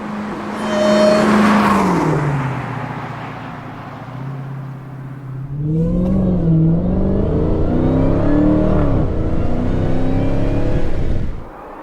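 A 2023 Dodge Challenger Hellcat Jailbreak's supercharged engine revs up and falls, then revs again, with a rising whine over the exhaust roar. The sound is loud and close and stays steady for about twelve seconds.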